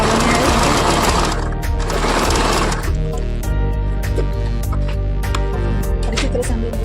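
Domestic sewing machine stitching the leg of a bellbottom palazzo pant from the hem upward, a steady close whirring run that fills the clip, with a brief shift partway through.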